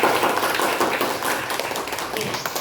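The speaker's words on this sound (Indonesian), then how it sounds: "Beri aplaus kepada saya." A classroom group claps in a sustained, dense burst of applause that fills the whole moment at a steady, fairly loud level.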